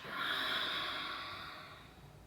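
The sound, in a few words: exhaling through the mouth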